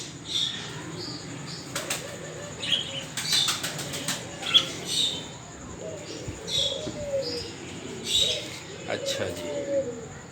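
Birds at a zoo in Pakistan coo and flap their wings in scattered bursts, with faint chirps over a quiet background, while someone speaks briefly.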